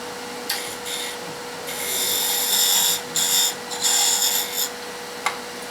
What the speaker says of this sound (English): So I'm using a ½ inch wrench.